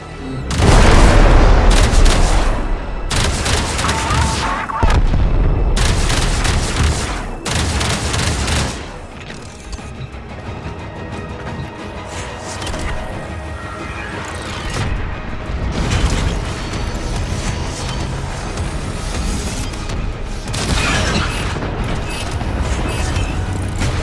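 Railjack ship guns firing in the space combat of Warframe, heavy booming bursts and rapid volleys coming in loud waves, with quieter rumbling and mechanical noise between salvos.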